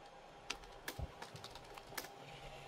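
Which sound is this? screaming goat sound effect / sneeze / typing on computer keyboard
typing on computer keyboard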